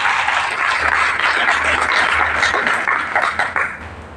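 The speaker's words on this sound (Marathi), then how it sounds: "त्यांच्याकरता आपण जोरदार टाळ्या वाजल्या" An audience at a district chemists and druggists association function claps loudly for the women organizers: dense, sustained applause filling the whole stretch at a steady level, with no break.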